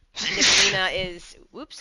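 A single loud sneeze close by, followed by a short breathy sound, during a tabletop Dungeons & Dragons session; a person speaks briefly afterward.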